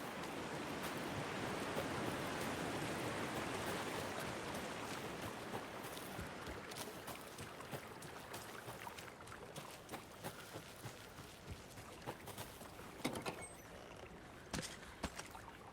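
Flowing river water with a boat in Alan Wake II, a soft continuous wash of rippling water with scattered small knocks and splashes, fairly quiet and with no talk.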